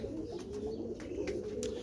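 A Rampuri pigeon coos in a soft, steady, throaty murmur, close and continuous for a couple of seconds with faint clicks above it.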